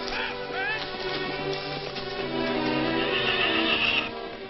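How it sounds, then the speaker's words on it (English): Horses neigh and whinny loudly and close by in a 1943 western oil-field drama setting, with repeated rising whinnies and snorts over a steady outdoor din of hoof and wagon noise, with no talk. "Hurry up with them horses."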